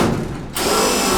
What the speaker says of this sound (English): I'm gonna go ahead and drill these holes in